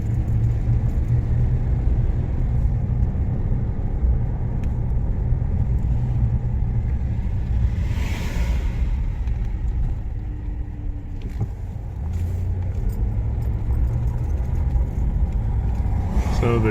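A car cruises through a small East Texas town, a steady low engine and road rumble heard from inside for the whole stretch, with a voice talking now and then over it.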